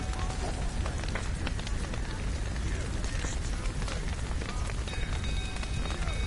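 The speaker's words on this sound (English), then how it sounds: "Looks like rain." Rain in The Witcher 3 video game, a dense, unbroken hiss and patter that fills the scene at an even level with no voices.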